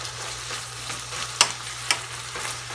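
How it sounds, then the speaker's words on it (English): Peas, carrots, green beans and corn kernels get stirred in a sizzling pan for a shepherd's pie, with a steady fry hiss and two sharp scrapes of the utensil against the pan. "Just mix them up."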